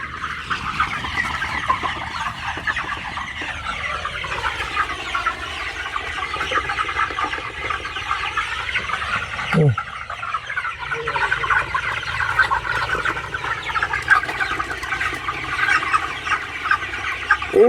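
Chickens on a poultry farm cluck and squawk steadily throughout while eating fermented feed, with many birds calling close by in a continuous busy chorus.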